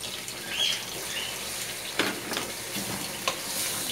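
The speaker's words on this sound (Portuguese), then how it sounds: "Eu vou botar um pouquinho d'água." Water is poured into a hot pan of sizzling food for a homemade empadão filling with tomato, parsley and chives, a steady close frying hiss with a few sharper spits and splashes as the liquid hits.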